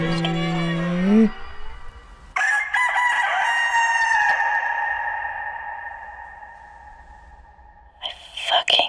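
A rooster crows loudly and close by in one long, sustained call after a brief burst of clucking, with another short crow starting at the end and no talk over it.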